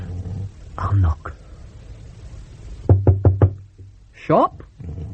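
Four quick, sharp knocks on a door ring out in close succession, set between bursts of talking voices in a comedy sketch.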